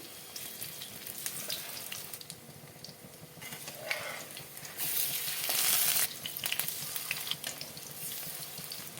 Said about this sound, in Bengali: কড়া গরম হয়ে গেছে দিলাম সর্ষে তেল ডিমগুলোকে এরম করে ভেজে নেব একটু উল্টো পাল্টে ভেজে নেবো